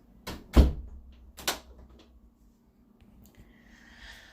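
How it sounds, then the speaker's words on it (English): A household door that does not close properly gives a couple of sharp knocks and thuds close by, followed by quieter rustling and a faint hiss. "My door just doesn't close."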